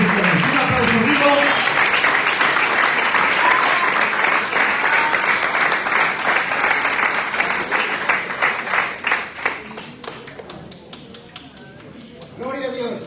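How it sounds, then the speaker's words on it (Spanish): Loud, sustained applause from a church congregation fills the space for about ten seconds, dense and steady, then thins out and fades, with a brief murmur of voices near the end. "Un aplauso vivo."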